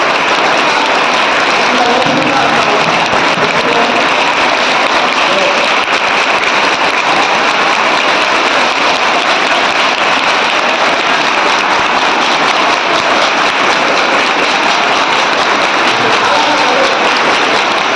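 Sustained audience clapping fills a hall during a felicitation ceremony at a student talk, a dense, even roar of many hands that holds loud and steady throughout, with voices faintly underneath.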